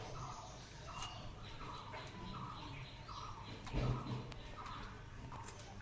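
Pigeons gather to eat at an outdoor feeding spot, giving soft, faint, rhythmic repeated calls against a quiet background, with a brief nearby bump midway.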